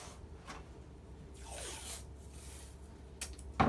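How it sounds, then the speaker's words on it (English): A strip of tape is pulled off a roll with a drawn-out rasp near a table, followed by a few soft rubbing and tapping sounds, quiet and close with no talking. "Take your tape, mark off each end"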